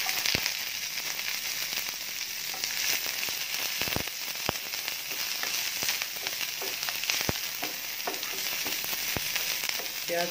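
Onions softly frying in a pan for a quick breakfast dish, a steady close sizzle with scattered crackles and pops running throughout, with no voices.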